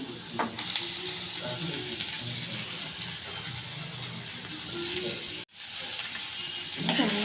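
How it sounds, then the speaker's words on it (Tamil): Onion frying in butter in a pan gives a steady, close sizzle that runs throughout, with a brief dropout near the end and no voices. "இந்த பட்டரில் வெங்காயம் நல்லா ஃப்ரை ஆகட்டும்"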